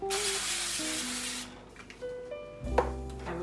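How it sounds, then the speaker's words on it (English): Cooking spray hisses in one long, loud burst onto the bottom of a baking pan, followed by quieter clatter and rubbing of kitchen items and a clunk near the end. "we're going to spray the bottom of our pan."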